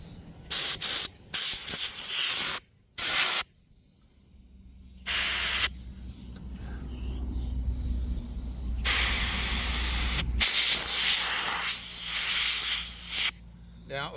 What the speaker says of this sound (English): I can also use my air compressor to give this a little extra cleaning.